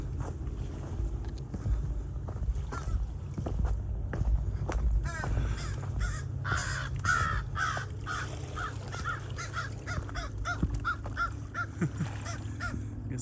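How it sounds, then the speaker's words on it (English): Several crows caw repeatedly in harsh, scattered calls at moderate distance by a lake on the Appalachian Trail, over soft outdoor rustling and footsteps. "crows wouldn't be quiet."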